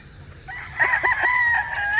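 Free-range gamefowl on a local farm, heard as a near bird giving a drawn-out crowing call with a few clucking notes over a low background hum; no talking.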